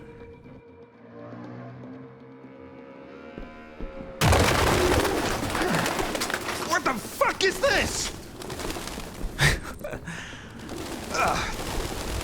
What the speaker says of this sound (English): Jesus, That's a lot of pigeons.